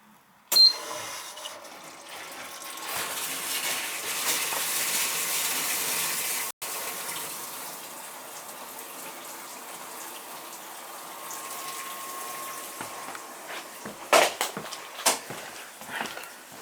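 Water poured and draining into a commercial dishwasher drain, a sustained rushing gush that lasts over ten seconds at steady strength, then tapers into scattered splashes and knocks near the end.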